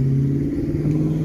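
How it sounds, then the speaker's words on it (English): A loud truck rumbles steadily past an auction house yard in Ida, its deep engine drone holding a constant level through the whole moment. "A loud truck driving by."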